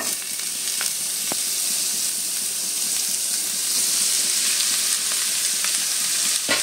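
Banana stem (thor) fries in hot tempered oil, giving a steady, loud, dense sizzle that runs unbroken throughout, with a few faint clicks and no talking.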